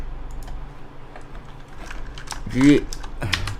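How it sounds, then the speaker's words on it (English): A worn computer keyboard clicks in quick, light keystrokes close by, with a voice speaking briefly partway through. "God, this keyboard is busted."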